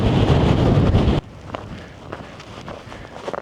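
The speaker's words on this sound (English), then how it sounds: "It's actually really quite gusty." Wind buffets a microphone on the snowy Helvellyn summit, a loud roaring gust that cuts off abruptly, leaving quieter rustling and faint footstep-like crunches.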